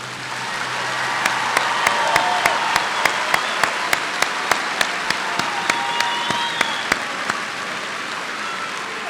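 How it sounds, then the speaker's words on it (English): Sustained applause for graduates at a spring commencement, a dense crowd clapping steadily and loudly, with a row of evenly spaced sharp claps standing out on top throughout. "Can we offer one more round of applause for all of our graduates today?"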